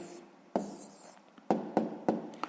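A pen or pencil writes an answer by hand on paper, soft scratchy strokes punctuated by several sharper taps and marks, close and quiet with no voices.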